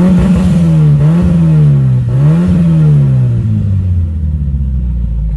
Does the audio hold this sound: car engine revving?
yes